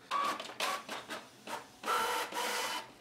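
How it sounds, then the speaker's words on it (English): A home printer starting a print job, giving a sequence of mechanical whirring and rasping passes with short pauses between them, close and fairly quiet. "I already hear my printer firing up"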